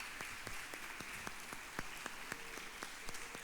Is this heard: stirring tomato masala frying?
no